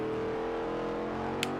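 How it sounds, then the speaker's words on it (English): Car engine held at a steady high drone with tonal harmonics and a brief tyre squeal near the end, as a vehicle power slides through a bend in the racing game Forza Horizon. "Well, I say drifting, power sliding."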